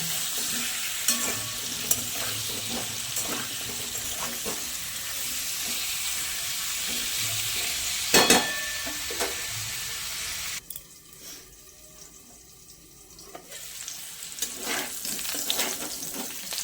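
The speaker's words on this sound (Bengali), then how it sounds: "এবার এঁচোড়গুলোকেও ভেজে নেব।" Young jackfruit pieces fry in oil in a pan with a steady loud sizzle and occasional stirring clatter, a short quieter pause, then renewed frying.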